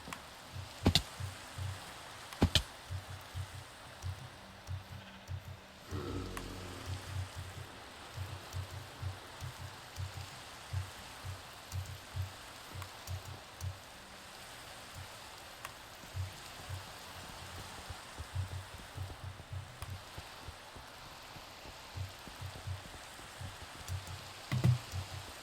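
Steady rain in the video game Minecraft, a soft continuous patter of drops with occasional sharper clicks, heard alone at moderate level throughout.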